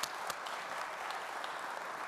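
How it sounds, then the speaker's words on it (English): A round of applause from the audience at an annual meeting, steady dense clapping that holds at an even level for the full two seconds. "we can give them a round of applause"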